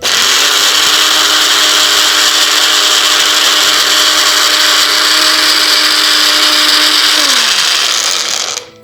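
Electric mixer grinder blending herbal powder with vinegar, a loud, steady high-pitched whir that holds level for several seconds, then winds down as the motor is switched off near the end.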